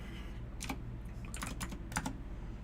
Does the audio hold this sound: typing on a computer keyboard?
yes